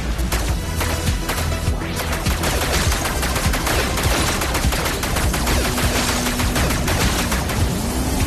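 Gunfire in the Deadpool VR game, a continuous loud barrage of rapid shots and crashes running the full eight seconds, dense and close with no pause.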